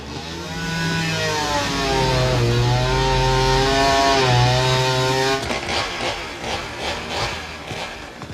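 A chainsaw runs loudly and steadily with a revving, buzzing engine note that rises and falls, then turns rougher and more uneven toward the end.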